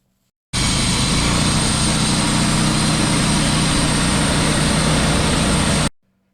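Steady roaring traffic noise from a highway beside a log yard near a sawmill, a dense continuous rush that starts abruptly and holds loud and even for about five seconds before cutting off.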